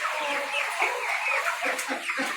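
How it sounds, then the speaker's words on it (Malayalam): A crested chicken at the Ajman poultry market clucks in a quick, steady run of short calls, close and clear over a busy background hum. "ഇതെന്താ കോഴി എന്നുള്ളത് ഒന്ന് നോക്കിയിട്ട് കമൻറ്റ് പറയണേ"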